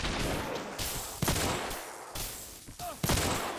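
Bursts of gunfire from two guns held at once in a VR game, sharp cracks at irregular intervals with a brief excited voice in the background.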